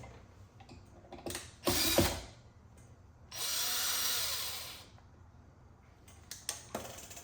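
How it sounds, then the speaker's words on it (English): Two bursts of a power drill whirring as it removes old door locks, the second longer and steadier, separated by quieter clicks and mechanical rattling. "I'm just gonna take them out with the drill."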